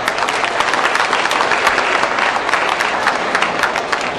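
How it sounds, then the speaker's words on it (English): Crowd of seniors at a Toronto civic gathering giving themselves a round of applause, dense loud clapping sustained throughout without talk. "Give yourselves a round of applause"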